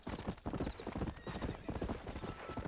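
Horse hooves clip-clop in a fast steady rhythm in Red Dead Redemption, loud and close with game ambience, with no talking.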